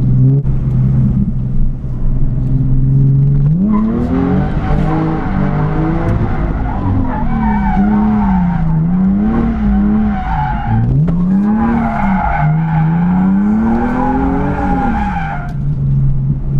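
A car drifts with tires squealing loudly in long wavering skids over a steady engine roar, close and continuous, with pauses between slides and no talking.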